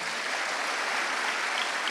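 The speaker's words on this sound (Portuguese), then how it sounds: "Vamos aplaudir os nossos irmãozinhos também." Steady, dense applause from a church congregation, a continuous wash of many hands clapping without a break and with no talking over it.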